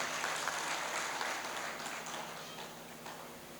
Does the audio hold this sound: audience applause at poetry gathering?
yes